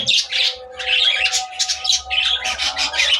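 Budgerigar parakeets chirp and warble up close in rapid, bright bursts, a busy chattering stream of calls over a faint low background hum.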